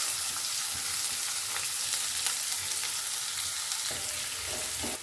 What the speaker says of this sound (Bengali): এবার একটু খুব কুচি কুচি পেঁয়াজ দিয়েছি, দিয়ে একটু ভেজে দিচ্ছি